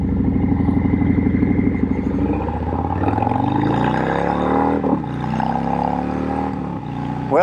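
A Harley-Davidson Fat Boy 114 cruiser accelerates hard toward 60 mph, its big V-twin loud and close, with pulsing revs climbing through several gear changes.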